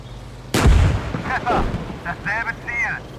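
A T-55A tank cannon fires once in the GHPC video game, a sudden loud close boom with a heavy low rumble that decays over a second or so, followed by faint voices talking.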